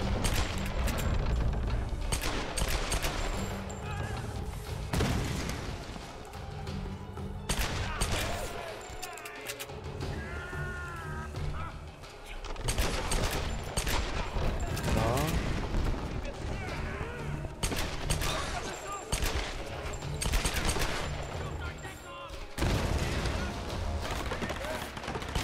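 Dense, repeated gunfire and blasts from pistol shooting in the Tomb Raider game, loud sharp reports scattered throughout amid continuous action noise, with someone talking over it at times.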